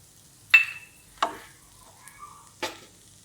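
Fresh turmeric stirred in ghee in a pan gives a few separate scraping, sizzling strokes, three or four short bursts with quiet gaps between them.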